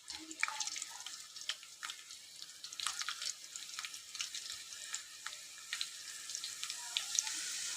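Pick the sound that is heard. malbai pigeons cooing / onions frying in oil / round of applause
onions frying in oil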